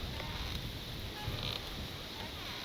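Strong wind buffets the microphone at night in open country, a loud rumbling roar with gusting swells that rise and fall without pause.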